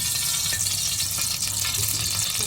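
Sunflower oil sizzles in a hot pan with a dense, constant crackling hiss, close and loud throughout the short stretch.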